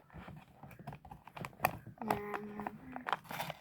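A candy wrapper is torn open by hand, giving a string of quiet, sharp crinkles and clicks with a brief louder rip partway through.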